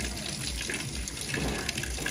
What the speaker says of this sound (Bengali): এই গোস্তগুলো এখন আস্তে আস্তে সুন্দর করে ধুয়ে পরিবেশন করে নিতেছে